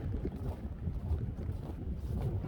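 Strong winter wind gusts outdoors and buffets the microphone in a steady low roar, loud and close, with no voices.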